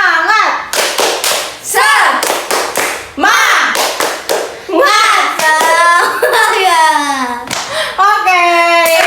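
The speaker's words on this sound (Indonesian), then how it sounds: "mari kita tepuk semangat dulu" Elementary school pupils in a classroom chant and perform a rhythmic group clapping routine, loud sharp claps in patterned bursts mixed with their sung and shouted voices.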